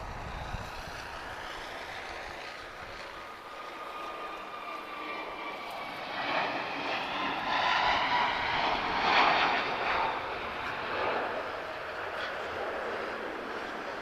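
An Airbus A321neo long-range jet begins a full-length takeoff roll on runway 20 at Lisbon Airport, its engine roar building steadily and swelling louder partway through as the aircraft accelerates, heard from a distance and continuous throughout.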